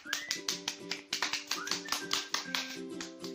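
A child claps hands in quick, slightly uneven bursts of sharp, close smacks, about a dozen in a few seconds, with a voice sounding faintly in the background.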